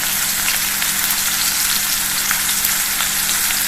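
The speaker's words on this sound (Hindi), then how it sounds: "धीमी आंच पे हमको इसको भूनना है।" Garlic, green chilies and onion fry on a low flame in a pan, giving a close, continuous sizzle and crackle with no talk.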